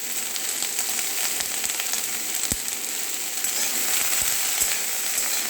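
Salted bottle gourd stems fried in a pan, a steady close sizzle and crackle with scattered sharp pops and an occasional stirring scrape.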